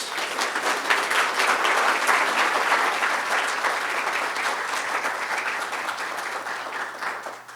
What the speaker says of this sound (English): can we give Undersecretary Stolba a round of applause?